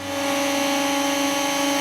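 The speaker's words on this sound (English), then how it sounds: "sanding the edges of the bases for the new plexiglass dividers" A steady, loud mechanical whine of a power tool sanding the edges of plexiglass divider bases, running continuously with a constant hum, no pauses and no voices.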